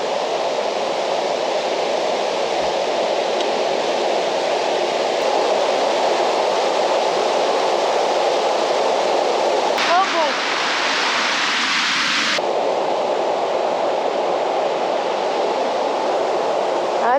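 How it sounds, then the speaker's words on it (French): Continuous rushing water from a flowing river fills the scene, a loud, steady broadband roar with a brief whistling sound midway. "à côté d'une rivière. Donc je vais devoir parler un peu plus fort"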